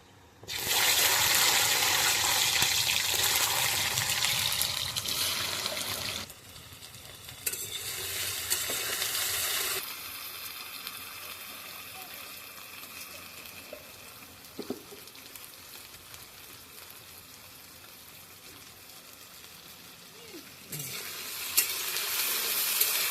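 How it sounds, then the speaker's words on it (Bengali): Taro (kochurmukhi) drops into hot oil with a loud sizzle that then settles into steady frying, with occasional stirring and spoon clatter as the pieces cook. A renewed burst of sizzling comes near the end. "তেলটা গরম হয়ে গেছে, এবার আমরা কচুরমুখিটা দিয়ে দেবো।"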